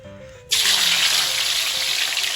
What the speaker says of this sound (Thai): เอาลงไปทอดนะครับ